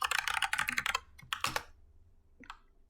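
Computer keyboard keys tapped while entering a password to confirm a Monero transaction with a Trezor Model T, a quick burst of close, crisp clicks, a pause, then a few more scattered keystrokes.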